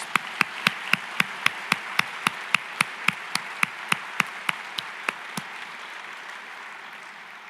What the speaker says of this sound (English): let's celebrate Mrs. Reed's generosity with a big round of applause